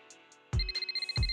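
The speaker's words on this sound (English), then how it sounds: "The phone rings." A phone rings in Zenless Zone Zero, a sharp electronic tone that starts after a short quiet, with two thuds and a rapid pulsing ring pattern.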